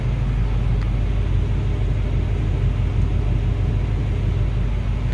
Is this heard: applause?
no